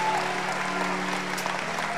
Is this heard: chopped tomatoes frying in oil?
no